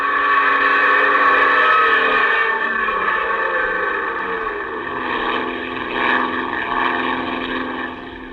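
Old-time radio drama sound effect of an airplane engine with the throttle pulled open, a steady multi-toned droning roar with wind-like noise, loud and continuous throughout, swelling slightly near the end.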